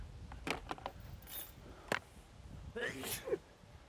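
A single sneeze from someone out on a disc golf course during a practice round, sharp and fairly close, with other people talking around it in the open air.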